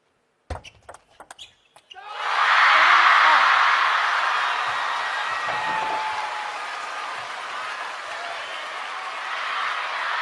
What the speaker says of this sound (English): The bench applaud.